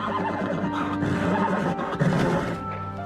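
A horse neighs loudly and close by in one long, wavering whinny that fades near the end, with no voices over it.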